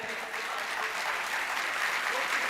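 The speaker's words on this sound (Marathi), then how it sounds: "यांच्यासाठी जोरदार टाळ्या व्हायला पाहिजेत" Enthusiastic applause from an audience for a poet at a poetry recital, a dense, continuous clapping that holds steady and close for the whole moment.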